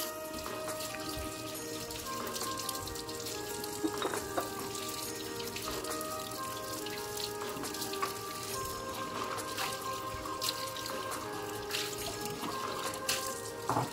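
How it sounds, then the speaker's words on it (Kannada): A new stone mortar being scrubbed and washed with water, a steady wash of running and splashing water with small scraping clicks throughout, close and continuous with no talking. "ಸ್ಕ್ರಬ್ಬರ್ನ ಯೂಸ್ ಮಾಡಿಬಿಟ್ಟು ಎಲ್ಲ ವಾಶ್ ಮಾಡ್ಕೊಳ್ತಾ ಇದ್ದೀನಿ."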